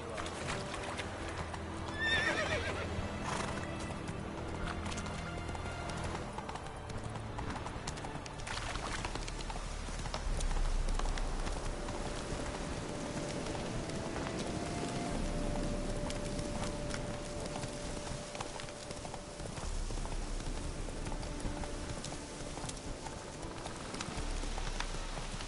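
Hoofbeats of Roach, the horse in the game Witcher 3, clop steadily in a rhythmic gallop, with a whinny near the start and game music and voices underneath.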